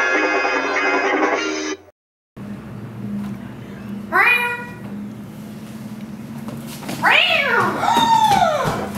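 Several cat meows sound close by: one short call, then two louder drawn-out meows near the end, over a steady low hum. An electronic tone plays briefly at the start.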